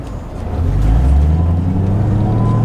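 A 2007 Ford Shelby GT500 with a supercharger drives under load, its deep engine rumble swelling steadily and holding loud from inside the car.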